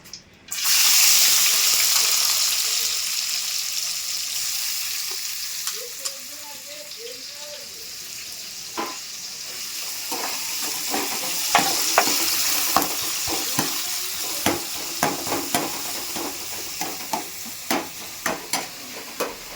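Onions fry in plenty of oil for a fish curry, a steady sizzle with a stir-like rustle, a hissing burst when they hit the pan, then repeated sharp spoon or ladle knocks against the vessel, with occasional voices in the background.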